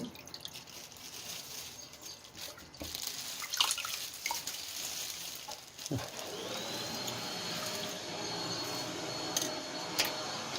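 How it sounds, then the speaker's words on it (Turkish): Washed wild mushrooms squeezed by hand so water drains and drips into a bowl; soft patters and trickles, close and fairly quiet, with a steadier run of water in the second half. "bunları ben şöyle elimle süzdürerek buraya koyacağım"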